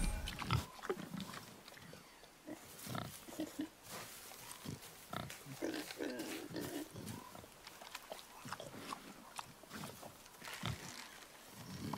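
Wild boar in God of War, grunting and snorting in short bursts over about twelve seconds, fairly quiet and somewhat distant, with rustling movement between calls.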